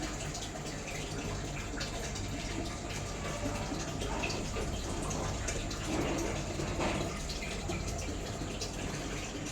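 A motor pump pours water into an overhead tank in a steady, unbroken rush, close and moderately loud for the full stretch, with no one speaking.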